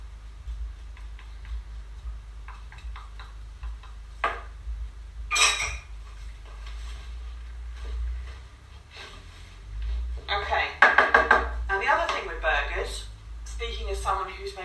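Wooden spoon stirring and scraping a thick vegan buckwheat burger mixture in a bowl, with scattered knocks and scrapes that build into a busier clatter near the end over a low background hum.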